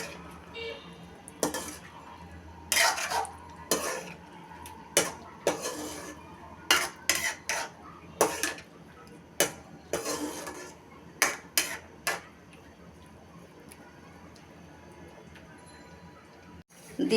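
Tomato chutney with salt, turmeric and chili is stirred in a pan, making a string of irregular knocks and scrapes of a spoon on metal, some louder, with quiet gaps between.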